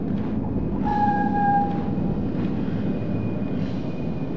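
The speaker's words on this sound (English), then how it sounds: "Lumiwanag kasi may dumaan na train." A train in Splinter Cell: Pandora Tomorrow for PlayStation 2 (2004) passes by as a steady low rumble, with faint high metallic squeals near the start. There is no speech.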